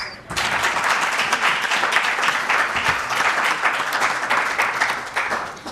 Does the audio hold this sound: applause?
yes